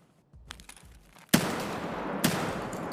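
A shotgun fires twice in a video game, two loud sharp blasts about a second apart, with quieter thumps and movement sounds just before them.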